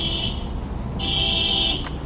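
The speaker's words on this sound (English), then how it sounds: "Oh, somebody's alarm's going off." Car alarm sounding outdoors near waterfront condos, a loud steady electronic tone that cuts out briefly and resumes, with a short break near the end over constant background noise.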